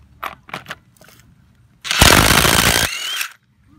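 A DeWalt DCF886 impact driver spins off lug nuts on a Jeep Liberty: a few short rattling bursts, then a loud sustained hammering run lasting about a second, close by and heard alone.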